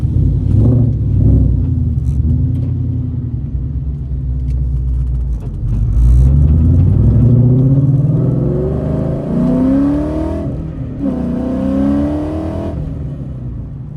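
A car engine rumbles deep and close, then revs up with rising pitch through several gear pulls, the growl swelling and easing as the car accelerates, with no talk over it.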